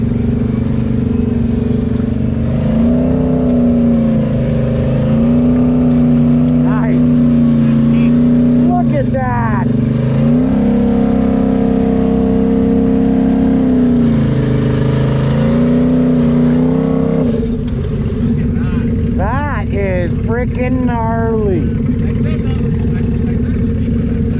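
A vehicle stuck at a mud park revs hard in long surges, its engine whining up and down loud and close, with voices shouting over it.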